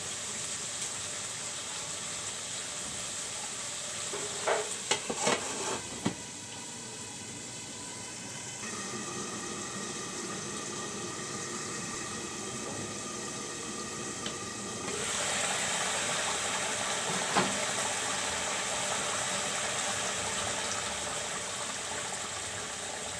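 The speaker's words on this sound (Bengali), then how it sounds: "আলুগুলো একটু আমি কষিয়ে নেব, এর জন্য এখন একটু ঢেকে দিচ্ছি।" Potatoes sautéing in a covered pan give a steady, moderately loud hiss that runs throughout, with a few brief clinks and clatters near the start and no talking.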